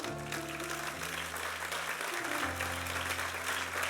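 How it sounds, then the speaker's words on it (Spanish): Church congregation applauding together, a dense steady clatter of clapping hands with sustained organ or keyboard chords playing underneath. "Dale un aplauso al Señor."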